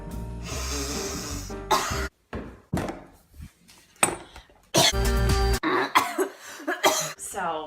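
A person coughs in a series of sharp, close bursts separated by short silences, with some harsher throat-clearing sounds mixed in.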